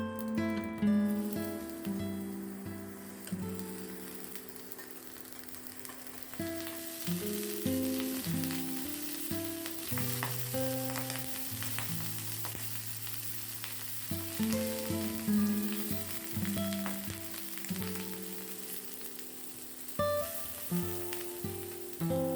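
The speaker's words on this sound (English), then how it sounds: "Now we will lightly shallow fry the prawn meatball." Prawn meatballs shallow frying in oil in a pan, a steady close sizzle running throughout with stirring noises, heard alongside a tonal musical background.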